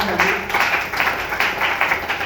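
Audience applause for a doctor at a gathering, steady broadband clapping from many hands filling about two seconds, moderately loud and fairly even.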